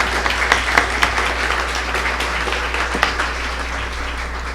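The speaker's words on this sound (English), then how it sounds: "Please join us in applauding these staff members for their assistance this evening." An audience at a school board meeting applauds in a dense, continuous round of clapping with sharper individual claps standing out, sustained and fairly loud throughout.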